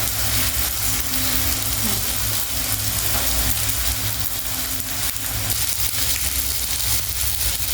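Telakucha (ivy gourd) leaf fritters frying in hot oil: a loud, steady, close-up sizzle with continuous crackling bubbles throughout and no pause.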